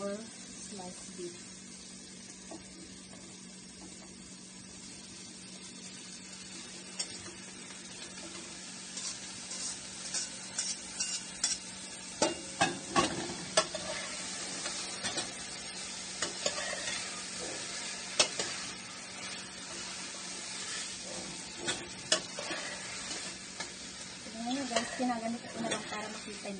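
Sliced beef frying in a pan with onions, a steady hiss of sizzling oil broken by repeated scraping and clattering strokes as it is stirred, with a person talking over it.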